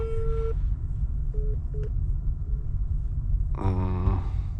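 A phone busy signal on a call made from a car, short repeated beeps heard over a low steady cabin rumble, followed by a brief burst of other tones near the end.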